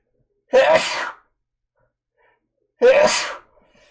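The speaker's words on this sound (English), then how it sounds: "I'm gonna sneeze." Two loud sneezes close to the mic, separated by a couple seconds of quiet.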